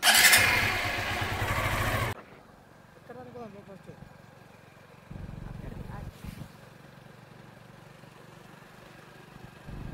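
A motorcycle engine roars loudly at first, then drops to a quieter, steady running hum as the bike moves off, with people talking over it.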